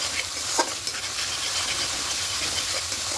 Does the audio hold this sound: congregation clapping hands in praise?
no